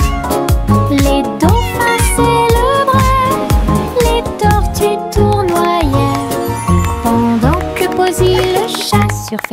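A cartoon cat meows in a bouncy French children's song, the meows sung tunefully over busy music with steady beats throughout.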